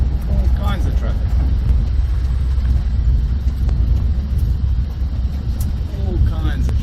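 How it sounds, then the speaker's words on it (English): Continuous low rumble of passing road traffic, cars and heavier vehicles, filling the whole stretch at steady moderate loudness, with someone talking intermittently over it. "All kinds of traffic."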